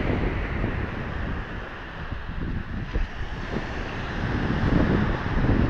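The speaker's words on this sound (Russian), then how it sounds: "Ветерок холодный." Cold wind on the Black Sea coast in Abkhazia in April rushes and buffets the microphone in a steady, loud roar with gusty swells, with no voices heard.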